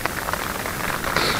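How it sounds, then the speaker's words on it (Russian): Heavy rain pours down outdoors on a fishing trip, heard from inside a car as a dense, steady hiss and patter that stays loud and unbroken throughout. "Дождь лупит хороший."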